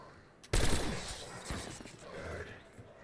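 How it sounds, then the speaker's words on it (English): Fireworks bursting in the Black Ops 7 Zombies video game, a sudden loud crackling blast that rumbles and fizzles out over a few seconds. "Why did fireworks just go"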